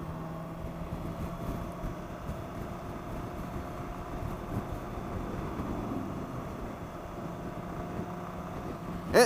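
A BMW K1600B touring motorcycle cruising in third gear at about 45 mph, its steady engine hum mixed with constant wind rush and a brief louder knock at the end.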